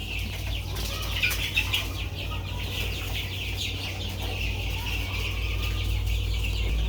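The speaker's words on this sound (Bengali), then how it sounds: "আমার মুরগি একশোটা" A flock of around a hundred chickens on a farm clucking and calling, a continuous mix of near and farther clucks over a low constant hum, with no talking.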